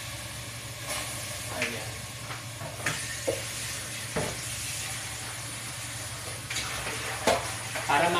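Garlic fries in oil alongside chicken in a home kitchen, a continuous close sizzle and hiss with occasional stirring scrapes and bursts of spatter, while a person speaks briefly over it.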